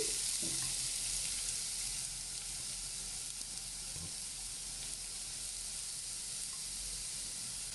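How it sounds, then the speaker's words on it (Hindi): Chopped carrots and a finely cut mild green chili sauté in hot oil, giving a steady broadband sizzle and hiss throughout with a few faint stirring scrapes near the start. "इसको आपने अच्छे से सौते कर लेना है जस्ट फॉर 2 मिनट्स, कि इसकी जो कच्चापन है वो ख़त्म हो जाए"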